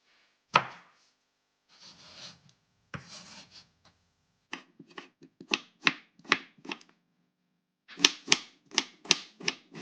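Knife chopping peeled beetroot into small pieces on a board for a Sri Lankan curry: close, crisp taps in loose bursts, speeding into quick rhythmic strokes.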